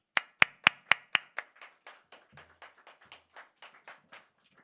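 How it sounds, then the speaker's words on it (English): Steady, rhythmic audience applause at a literary festival talk, loud and sharp at first, then trailing off into softer, scattered claps, with no talk. "Please welcome everyone with a huge applause."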